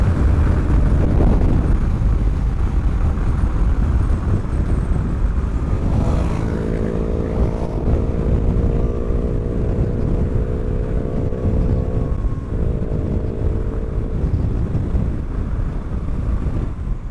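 A Zero FXS electric motorcycle rides along, its motor whine rising into a faint steady tonal hum beneath heavy, continuous wind rush across the microphone.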